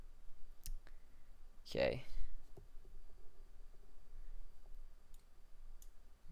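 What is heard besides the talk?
mouse clicking to submit in a Windows app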